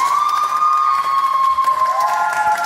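A crowd applauds and cheers continuously for under three seconds, a dense wash of clapping with a sustained whistle-like tone running through it.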